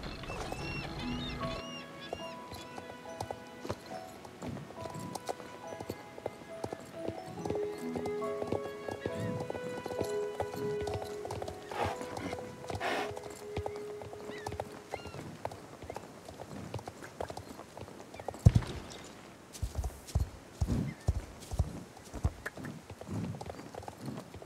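Rhythmic clip-clop of horse hooves in the video game Star Stable runs steadily under game music and effects, growing sharper and more percussive toward the end, with a brief whinny.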